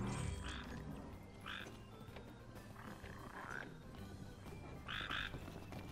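A red frog croaks in the marshy slough setting of the video game Final Fantasy XV, giving a few short, separate croaks over steady ambient game sound and background noise.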